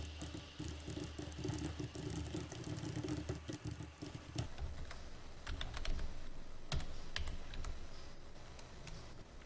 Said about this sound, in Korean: 텍스트 상자에 글자를 입력합니다